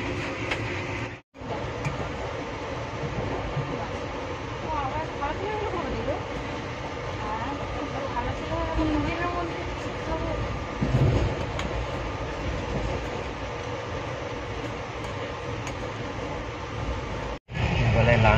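Inside a moving passenger train, a continuous low rumble and rattle of the carriage runs throughout with faint rhythmic clatter, and people talk quietly over it.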